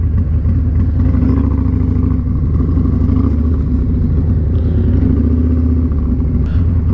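A motorcycle, an Australian-model bike, idles with a close, loud, steady rumbling engine note and a faint clatter, no one talking over it.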